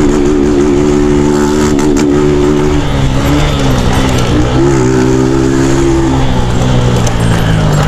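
A motorcycle fitted with a CDI ignition revs hard and close, its engine note climbing and dropping in repeated throttle blips, loud and unbroken with no talking.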